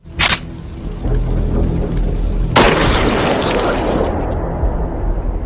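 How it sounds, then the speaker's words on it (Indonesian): Gunfire from a 2019 Indonesian horror film, where a monk fires a volley of shots that kills a flying kuyang: two loud bursts with a brief blast first, then a heavier sustained roar from about 2.5 seconds on, with no talk. "Untungnya, biksu datang tepat waktu, menghujani tembakan ke arah Ted hingga tewas."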